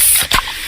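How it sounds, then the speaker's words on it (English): A freshly opened Pepsi gives a short, bright fizzing hiss, a single close burst of spray-like noise that rises and fades within a fraction of a second. "Oh yeah, that's the sound of a freshly opened fizz-filled Pepsi."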